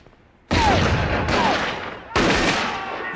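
Three sharp, loud gunshots ring out close by, spaced about a second apart, each followed by a ringing tail.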